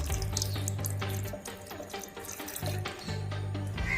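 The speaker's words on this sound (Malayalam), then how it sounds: "നമുക്ക് കുറച്ച് ഇളനീരിൻ്റെ വെള്ളം കൂടി ഒഴിച്ചു കൊടുക്കാം." Tender coconut water is poured into a mixer jar in a kitchen, making a steady gurgling splash that pauses briefly and then resumes, close and clear with no speech.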